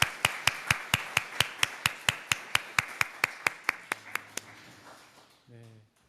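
Congregation applause at a Christmas service in a church, an even run of sharp claps that slows and fades out after about four seconds, followed by a low murmur.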